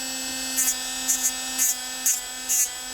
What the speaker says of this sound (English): paddle with sandpaper. So let's get that done quickly. Back to the trusty Maturk rotary tool.